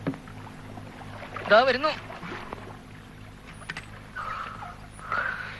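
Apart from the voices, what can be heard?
passenger boat departing on water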